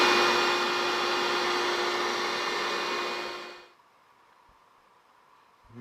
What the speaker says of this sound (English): I would turn this one on and I would turn shop vac